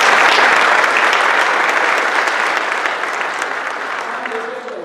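A graduation-ceremony audience at a guide dog class gives a big, loud round of applause, dense and sustained for the whole stretch and easing slightly toward the end, with no one speaking over it.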